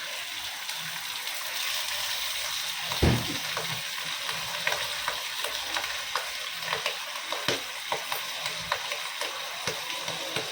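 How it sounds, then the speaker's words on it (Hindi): Washed kolam rice fries in ghee in a pan with a continuous close sizzle, broken by a spoon scraping and stirring, including one sharp knock and a series of light ticking scrapes. "अभी ये चावल को अच्छे से 5 मिनट भूनेंगे घी के अंदर।"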